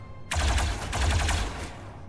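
Rapid bursts of blaster fire ring out in the Star Wars Zero Company video game, a dense volley of sharp shots lasting about a second and a half, loud and close, with no voices.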